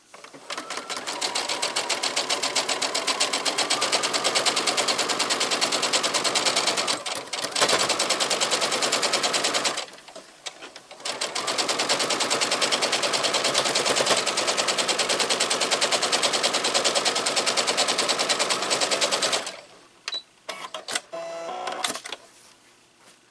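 A sewing machine stitches a quilt block in long, steady mechanical runs, loud and close, with brief pauses between seams and a few short bursts near the end.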